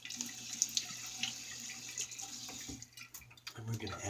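Bathroom tap runs steadily into a sink for a rinse during a wet shave, a faint, close hiss of flowing water with small splashes throughout.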